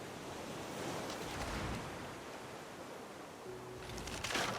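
Ocean waves in the survival game Raft, a broad steady wash of surf with rolling swells and wind-like hiss, moderately loud and continuous with no voices.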